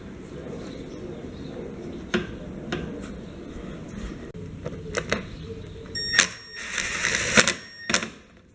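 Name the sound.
reinstalling lawn mower air filter housing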